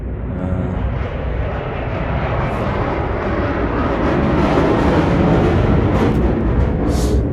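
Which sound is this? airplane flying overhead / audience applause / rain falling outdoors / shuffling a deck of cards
airplane flying overhead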